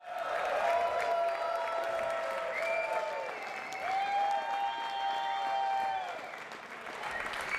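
Crowd at the US Open Racquetball Championship applauding steadily, a sustained wash of clapping with a few cheers, fairly loud and continuous under faint background tones.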